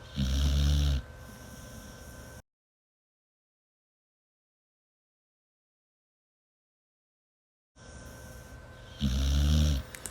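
Loud, close snoring with deep rattling inhales comes at the start and again at the end, separated by a long stretch of total silence.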